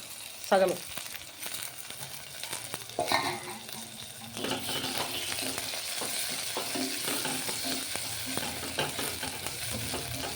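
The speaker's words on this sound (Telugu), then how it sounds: "ఉల్లిగడ్డతో పాటు మంచిగా ఉడుకుతుందండి ఇది" Goat spleen masala with onions and tomatoes cooks in a pan, giving a steady sizzle and frying crackle with occasional scrapes of stirring.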